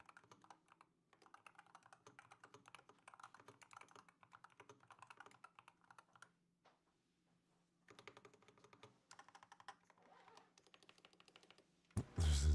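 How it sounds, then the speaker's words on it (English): Typing on a Boy 66 Pro mechanical keyboard, hollow-sounding, with steady bursts of close key clicks broken by short pauses and a loud thump at the end. "Here's what the keyboard sounds like."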